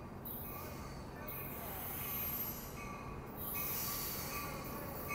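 An Amtrak Capital Corridor train, number 546, a five-car set with locomotive 2104, rolls through Oakland's Jack London Square station with a steady loud rumble and thin high metallic wheel squeal that rises and fades.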